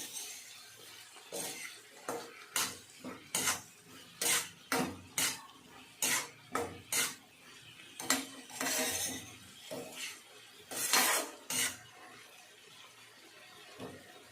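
A metal spatula scrapes and knocks against a pan in a steady series of sharp clinks while green tomatoes and jaggery are stir-fried, close and crisp with uneven pauses between strokes, no talking.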